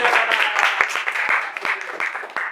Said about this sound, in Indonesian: Wah, ini perlu kita tepuk tangan juga nih.